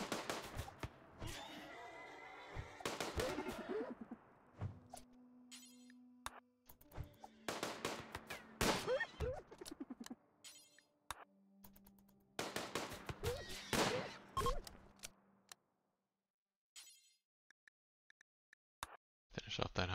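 Scattered shots from Rimworld firefights in a wild west colony against hyenas, sharp crackling bursts spread across the stretch with short pauses, a brief silence, then a final volley, moderately loud.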